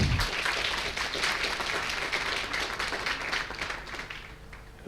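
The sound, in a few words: audience applauding at a conference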